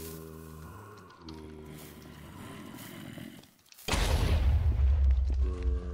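Bomb blowing up in the Minecraft modpack Hexx: Reloaded, a sudden loud, deep boom with a long rumbling roar that follows a steady droning tone.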